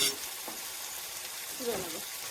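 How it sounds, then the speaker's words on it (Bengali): Capsicum and mixed vegetables stir-frying in a pan, a steady close sizzle with faint scraping of stirring and brief voices in the background. "ক্যাপসিকামটা নাড়ো, সবে ক্যাপসিকামটা নাড়ো।"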